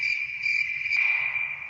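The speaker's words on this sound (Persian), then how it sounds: "همینجور سوت و کور با صدای جیرجیرک در پس زمینه" Crickets chirp steadily in the background, a continuous high-pitched trill that stays even and moderately loud throughout, with no other sounds over it.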